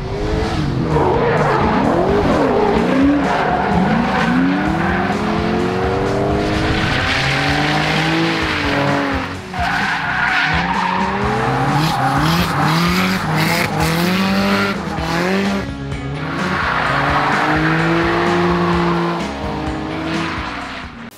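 Tires squeal continuously as a drifting Nissan 370Z's engine revs and howls up and down, loud and close, with short dips between slides.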